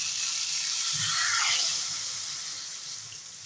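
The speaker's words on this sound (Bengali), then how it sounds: "এবারে ঝোল দিয়ে দেবো" Broth poured into a sea chela fish curry with potato, eggplant and drumstick simmering in the pan, a steady watery pour and faint sizzle, close and continuous without speech.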